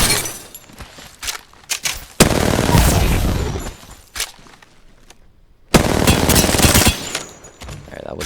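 Rapid automatic fire from an R-99 submachine gun in the Apex Legends video game, loud sustained bursts of gunfire broken by short gaps and scattered single shots.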